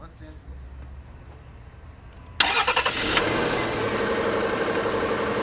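A 2005 car engine cranks and catches after a quiet stretch, then settles into a loud, close idle with a few brief surges as it runs steadily.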